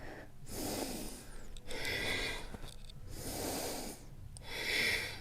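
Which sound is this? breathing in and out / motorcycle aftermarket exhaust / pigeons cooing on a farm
breathing in and out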